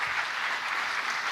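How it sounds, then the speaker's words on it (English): A short burst of dense audience applause fills a hall of fame ceremony, a steady hiss of many hands clapping at once. "So let's give Sue a round of applause."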